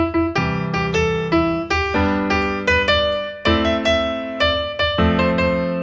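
Piano playing chords in the left hand in the low register under a simple right-hand melody, struck in a steady, plodding rhythm, clear and close.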